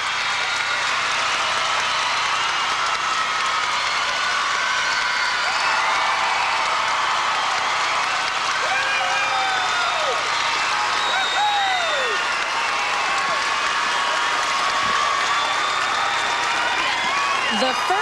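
A gymnastics arena crowd in Portland applauds a perfect 10 for Shannon Miller, sustained dense clapping with scattered whoops and cheers, a commentator talking over it.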